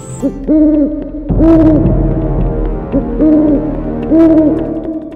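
An owl gives a run of loud, close, steady hoots, four or five in a row with short gaps between them, with no other sound.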